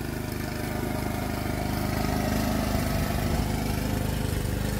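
A lawn mower cutting grass at a house near a lake and park in Lexington, Kentucky, its engine running steadily and close by with a continuous droning hum that grows slightly louder after the start.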